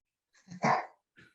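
A small dog gives a short, close bark mixed with a growl, a brief agitated outburst followed by a quieter second snarl, heard alone.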